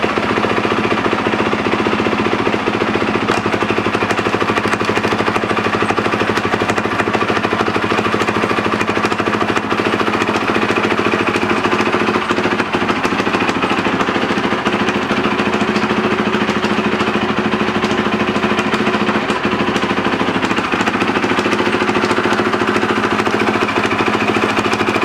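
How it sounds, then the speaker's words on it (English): A Yamaha YZ450F four-stroke dirt bike engine runs on a stand, a loud, steady mechanical idle with dense rattling texture that holds constant throughout, no speech over it. "We'll start by starting the bike up on this stand, and I'll put it in gear."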